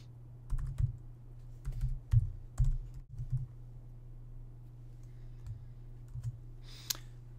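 Someone types a command on a computer keyboard in quiet, irregular bursts of clicking keystrokes with pauses between them, over a low steady hum.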